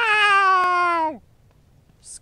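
A single drawn-out meow, voiced by a person imitating a cat while playing The Evil Within 2. It lasts about a second with a falling pitch at the end, then goes quiet.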